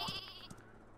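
A sheep weapon bleating in a Worms video game, one short, quiet electronic bleat followed by a few faint game sound effects.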